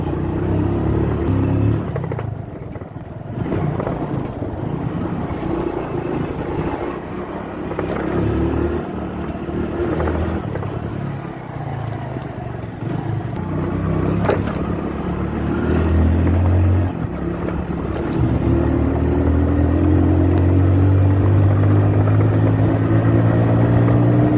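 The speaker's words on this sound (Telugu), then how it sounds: "ఇప్పుడు మన బైక్ కూడా రెడీగా ఉంది వెళ్ళడానికి" Motorcycle engines at a bike race drone and rev continuously and loudly up close, with pitch rising and falling as throttle changes and a rising whine toward the end.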